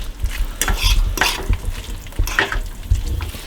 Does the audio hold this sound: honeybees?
no